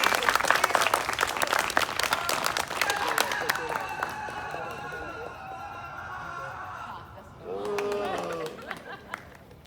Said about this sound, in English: Come on, everybody, go to the little boys and clap.